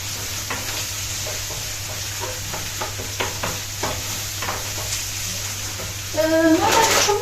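Tomato paste frying and being stirred in a pan for creamy minced-meat pasta: soft sizzle with repeated scraping stirs, then a louder burst of sizzling near the end.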